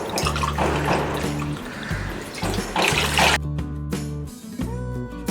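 Eight cups of water pour steadily into a pot on a lit gas stove for cooking two cups of rice, a continuous splashing gush with a low hum beneath it.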